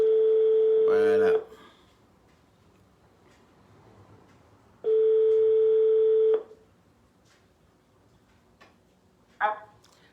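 A telephone line rings out while a call is placed, with two long steady tones a few seconds apart, a short chirp near the end, and faint background murmur in between.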